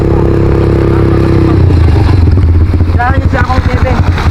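ATV engine revving loudly at close range while crossing at Estanza Beach in Lingayen, Pangasinan, with a low, rough idle rising into throttle bursts and clattering, and voices talking nearby.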